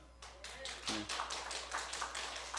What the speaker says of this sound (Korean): 여러분 이럴 때는 여러분 박수 칩시다